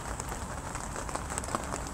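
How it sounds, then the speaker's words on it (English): Rain starting to fall beside a carp fishing lake at Redhouse, a steady even patter of drops on a surface with no talk, holding constant throughout. "So the rain started."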